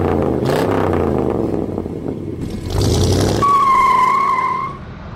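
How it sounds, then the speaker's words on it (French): A 1950 Mercury four-door sedan runs with its engine on, heard from inside the car as a steady low rumble that swells slightly partway through, joined near the end by a sustained high-pitched whine. "nous voici au volant donc de cette Mercury Sedan de 1950, moteur tournant"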